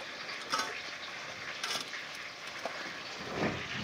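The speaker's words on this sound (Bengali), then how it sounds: "পটলটা ভাজা চলছে" Pieces of pointed gourd fry in an oiled pan, a steady soft sizzle with occasional stirring scrapes and clatters, heard alone without talk.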